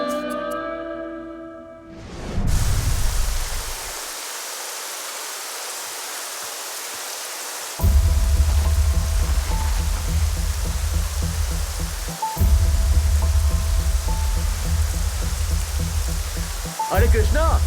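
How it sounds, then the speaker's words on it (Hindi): Heavy rain falls in a steady broadband hiss, alone at first and then continuing beneath louder sustained tonal sound and music-like layers through the rest of the scene. "अरे कृष्णा, बारिश बहुत तेज हो रही है, संभल कर जाना।"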